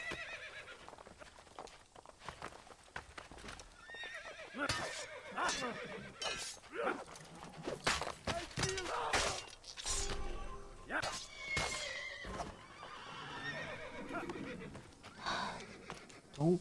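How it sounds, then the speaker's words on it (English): A horse in Assassin's Creed whinnies loudly amid clopping hooves and thuds, with people talking over the commotion. "Don't get on the horse."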